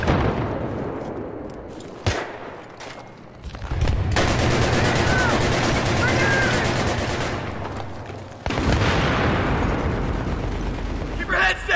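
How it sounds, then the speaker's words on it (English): M16 rifle fire in the video game Battlefield 3: loud, rapid automatic bursts, with a long sustained volley in the middle and sharp single shots and echoing booms around it. "God, this M16 shreds"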